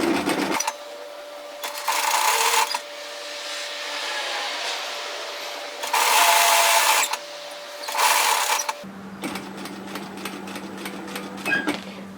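A sewing machine stitches a dress neckline with a small back tack, running in several bursts of steady whirring hum separated by pauses, followed by a slower, choppier stretch of stitching near the end.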